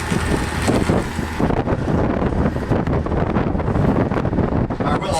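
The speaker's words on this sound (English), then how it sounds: "Here comes another big gust." A big gust of wind buffets the microphone on a tour boat crossing a lake in Waterton national park, a loud, continuous roar with rumbling swells over the boat's engine hum.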